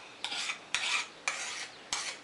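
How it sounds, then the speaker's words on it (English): A metal file rasps along the flat back of a steel card scraper held in a vise, four distinct strokes in steady rhythm, each a bright scraping burst, close and fairly quiet. "I'll take the file, make sure that back is flat, and no burr there now."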